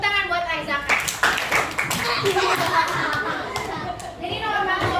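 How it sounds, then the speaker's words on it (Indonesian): Schoolchildren in a classroom clap for a classmate named Arzaka, a burst of hand clapping mixed with lively children's chatter and brief laughter. "Tepuk tangan buat Arzaka"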